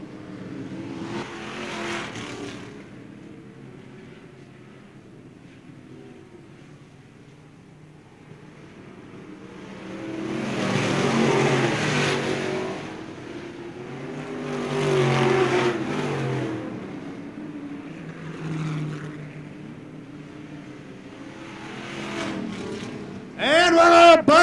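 Modified race cars roar around a dirt oval speedway in 1998, engines swelling and fading in waves as the pack passes and revs, with an announcer talking over the PA between passes and a sharp near burst at the end.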